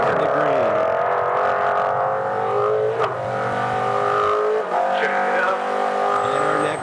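Off-road race trucks at the SCORE San Felipe 250 desert race roar past, engines revving loudly and steadily with pitch shifts as they speed by, while a voice talks over the noise.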